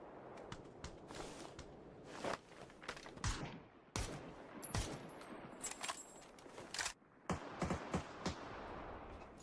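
Gunfire in a competitive video game match crackles as repeated bursts and single shots, fairly loud and continuous over a dense game soundscape with footsteps, no talking.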